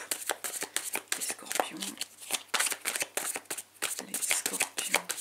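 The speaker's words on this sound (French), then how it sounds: "On fait à la coupe." A deck of tarot cards being cut and riffled, rapid dense crackling flutter in repeated bursts, close up, with a voice speaking over it.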